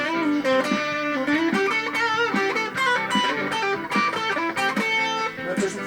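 An overdriven electric guitar, a Jim Deacon Strat fitted with a Coiladder switch set to the hum-cancelling middle position, plays busy chord stabs and bent notes up close at a steady, loud level.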